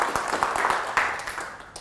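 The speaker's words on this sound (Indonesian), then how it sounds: "Tepuk tangan untuk kita semua." People clap together at a coffee product launch event, a moderate burst of overlapping hand claps that thins out toward the end, with some background voices mixed in.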